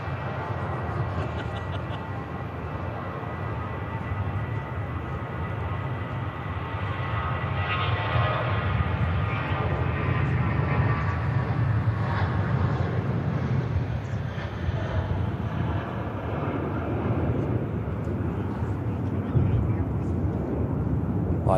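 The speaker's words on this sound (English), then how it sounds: "It's Challenge Airlines, Boeing 747 departure." A Challenge Airlines Boeing 747 departing runway 23 right at Manchester Airport, a steady distant jet roar swelling and holding for about twenty seconds, with someone talking at times.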